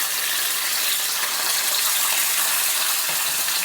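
Two tomatoes added to a small amount of hot oil in a pan for a chukkakura chutney, giving a loud, steady, close sizzle that holds evenly throughout with no pauses.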